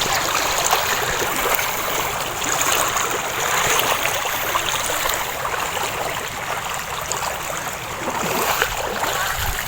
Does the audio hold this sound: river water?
yes